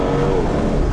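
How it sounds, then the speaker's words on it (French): A 2026 Porsche 911 Turbo S engine pulls hard under acceleration on the road, a loud, dense, continuous roar with little turbo whoosh, heard close and steady for about a second. "Là, on entend le moteur, un petit peu moins le côté souffle terrorisant des turbos."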